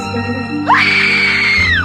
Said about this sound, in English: I can scream for you